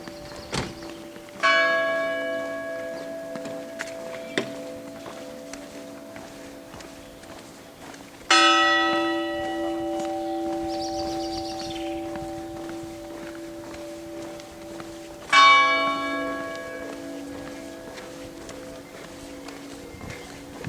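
Church bells along the Camino del Norte in Spain ring out in three separate bursts, each strike sustaining a rich ringing hum that slowly fades, with soft footsteps and ambient noise in between.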